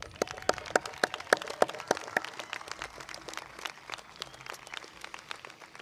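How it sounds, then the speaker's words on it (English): Scattered handclaps ring out from an audience at a Parsippany High School graduation ceremony, sharp and sparse at first and then thinning into a lighter, quieter patter. "let's give them another big round of applause"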